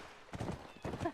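Horse in The Last of Us Remastered video game making a few quick hoof clops, faint and brief, with a soft whinny-like tone at the end.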